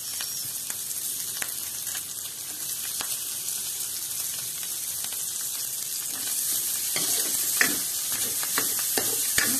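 Garlic and onion sauté in butter in a pan for a Filipino vegetable stir-fry, giving a continuous close sizzle with occasional sharp clinks of a stirring utensil.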